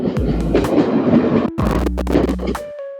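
A steam train rumbles past close by with rattling, clattering wheels and a brief tonal whistle-like sound near the end.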